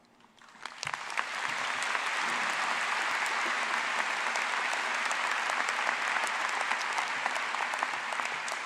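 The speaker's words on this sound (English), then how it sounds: "A special applause for you." A large audience at the University of Washington new student convocation breaks into applause. It swells within a second into loud, sustained clapping that carries on for several seconds in a big hall.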